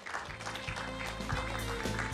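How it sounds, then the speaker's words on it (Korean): An audience at a Busan forum panel discussion applauds, a steady patter of clapping at moderate distance with low thumps underneath. It lasts about two seconds with no talk over it. "여러분 큰 박수 부탁드리겠습니다"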